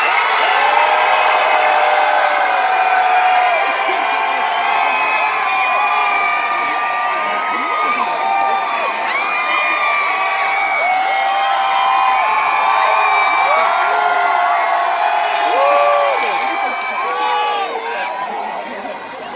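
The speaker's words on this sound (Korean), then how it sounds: "왼쪽만 소리 질러!" A large concert crowd on the left side of an outdoor university show shouting and cheering together, a sustained roar of many voices with whoops rising and falling for about twenty seconds.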